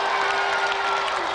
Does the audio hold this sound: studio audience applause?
yes